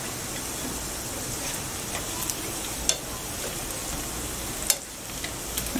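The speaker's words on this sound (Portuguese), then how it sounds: "Continuo aqui fritando meu aipim." Cassava pieces frying in oil on a slow home stove, giving a steady close crackling sizzle with a few sharper pops and no talking.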